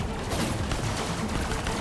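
Gunfire in Borderlands: The Pre-Sequel comes as a dense, continuous burst of rapid shots, loud and sustained across the whole moment with no talk over it.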